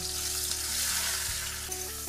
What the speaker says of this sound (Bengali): দিয়ে ভালো করে নাড়িয়ে চাড়িয়ে লাল করে ভেজে নেব